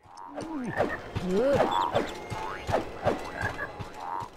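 Cartoonish frog croaks recur in a rhythmic series, blended with clicky ratchet-like game effects, in the forest of the video game MediEvil Resurrection, moderately loud with no talk.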